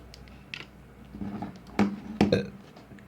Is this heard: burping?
yes